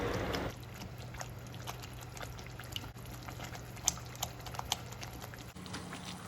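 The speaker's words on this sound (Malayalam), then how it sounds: "അപ്പോൾ നന്നായി തിളച്ചിട്ടുണ്ട്." Homemade Schezwan chutney boiling in a pan, a steady close bubbling and popping crackle with scattered sharper pops over a low hum, with no talking.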